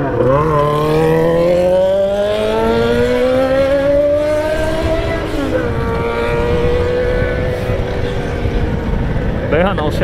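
A Yamaha XJ6 motorcycle engine revving loudly, its pitch climbing steadily for several seconds, dropping, then holding at a high, strained roar, close by and dominating the scene.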